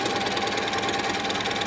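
A sewing machine runs steadily as it stitches down the side of a fabric tote bag, a close, even mechanical whir with a fast regular pulse and no talk.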